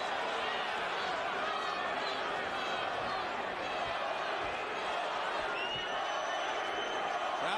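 A boxing arena crowd at the 2004 Vitali Klitschko vs Corrie Sanders fight chants the fighters' names, a dense, loud, continuous roar of massed voices that stays steady throughout.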